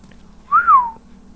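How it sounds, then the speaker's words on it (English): A character in The Last of Us video game gives one short whistle, a clear rising-then-falling note lasting under half a second against a quiet background. "See, Ellie, that's whistling."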